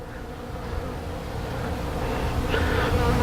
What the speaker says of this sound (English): It's a small swarm that moved in.